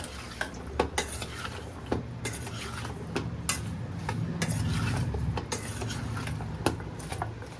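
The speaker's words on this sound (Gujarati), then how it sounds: "પછી મિક્સ કરી દેવાનું" Mango pieces are stirred with turmeric and salt in a metal vessel for pickle, with repeated sharp clinks and scrapes of a spoon against the pot at an uneven rhythm, close and moderately loud.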